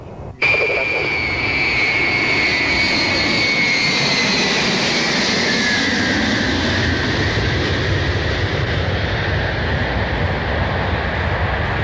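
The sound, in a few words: heavy Aeroflot plane taxiing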